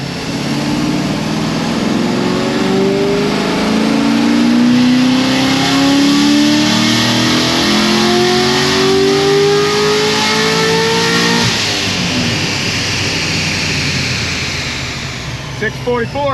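LS7 V8 engine revving, a loud, sustained rev that climbs steadily in pitch over many seconds, then drops and settles near the end, heard close up.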